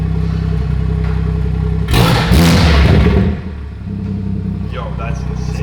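Catless car engine revving hard in a short loud burst under a turbo-like roar, then settling back to a throaty idle, with people talking over it.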